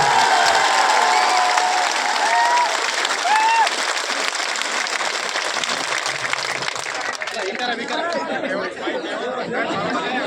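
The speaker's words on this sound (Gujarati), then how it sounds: "તાળીઓ એવી વગાડો છે ગાંધીનગર સુધી સંભળાય" Crowd at a political rally applauding, a dense wash of clapping that fades into murmuring chatter and scattered voices from the gathering.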